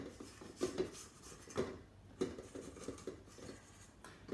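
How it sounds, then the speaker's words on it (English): A spatula works a syrup-laced mixture around a bowl, giving irregular soft clinks and scrapes at close range with no talking. "I'm just gonna give this a stir, put a bit of syrup on the side of the bowl"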